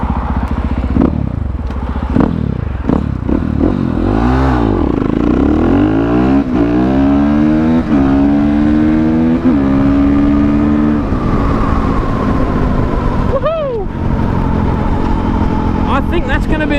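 A KTM 450 EXC dirt bike launches hard in second gear: the single-cylinder engine barks and rises sharply in pitch, shifts up, and keeps accelerating loudly, with a rider talking over it and another vehicle sweeping past near the end.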